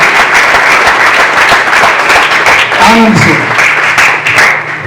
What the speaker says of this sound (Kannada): ಜೋರಾದ ಚಪ್ಪಾಳೆಯೊಂದಿಗೆ ನಾವು